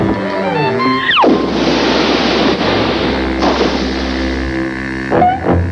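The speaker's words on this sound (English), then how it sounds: "Watch who you're splashing." Water splashing in an animated cartoon, a steady rushing wash of spray and surf under a short rising whistle at the start and brief bursts near the end.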